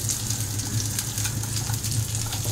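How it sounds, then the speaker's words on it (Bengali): Cashews and raisins frying with coconut in a pan, giving a steady, even sizzle with a soft low hum underneath, close and continuous for the whole stretch. "এইবার আমি এতে কাজু কিশমিশটা দিয়ে এর সাথে আবার একটু ভেজে নেব"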